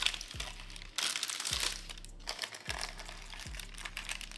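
Parchment paper is peeled off a heavy pan of baked white chocolate toffee blondies, making near, loud crinkling and tearing in a few bursts with short pauses between them.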